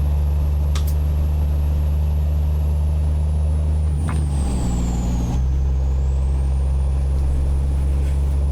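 Mack truck engine in American Truck Simulator, a loud, steady, deep diesel drone with a constant low hum, briefly shifting pitch midway as if changing gear, plus a short hiss; no talking.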